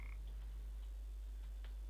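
Frog croaks from the video game Papo & Yo, a few soft, short calls spread across a quiet stretch with no talking.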